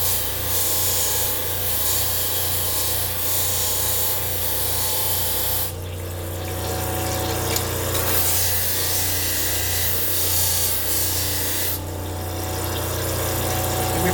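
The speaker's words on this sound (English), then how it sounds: "I'm starting on a 60 grit wheel." A 60 grit grinding wheel runs with a loud, steady whir and a rough abrasive hiss against metal, close by and continuous, easing briefly twice, with no talk.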